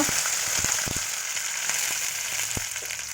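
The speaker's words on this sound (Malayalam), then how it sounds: "വറ്റൽമുളക് മൂത്ത് വരുമ്പോൾ കറിവേപ്പില ഇട്ട് കൊടുക്കുക" Steady oil sizzle and crackle as curry leaves fry with dried chillies in a hot pan, with a few sharp pops and spatters scattered through, close and fairly loud.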